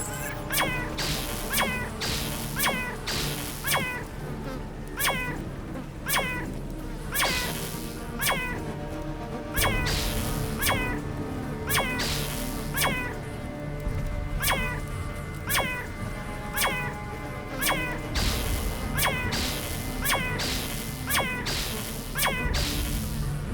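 Cats in the video game Underrail meow over and over, a regular series of sharp, loud yowls repeating about once a second for over twenty seconds, with no talk.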